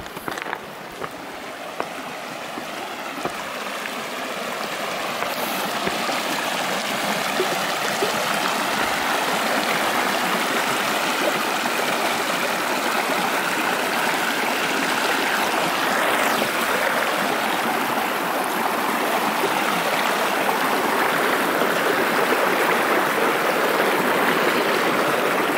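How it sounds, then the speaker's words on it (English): A river on a hiking trail crossing in the Adirondacks near Allen Mountain rushes in a steady broadband roar that swells as it draws closer, with no talk. "First river crossing, maybe the only one."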